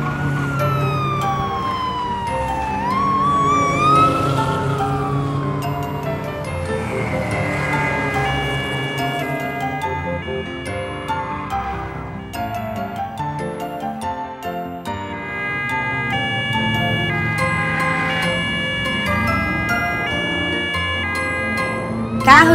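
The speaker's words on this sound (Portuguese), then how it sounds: "Carro de polícia." Police car siren in a children's cartoon, a loud wailing, rising and falling siren over playful synthesized music and sound effects, lasting throughout with no speech.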